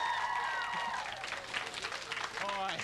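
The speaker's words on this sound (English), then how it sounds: "Clap your hands for the semi-amazing Ezra." Audience at a children's show claps for a young performer, a moderate round of applause mixed with voices and bits of music.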